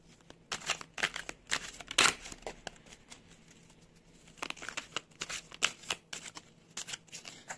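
Tarot cards are drawn and handled from a deck at close range, producing quiet papery flicks, slides and sharp snaps in irregular clusters with short pauses between them.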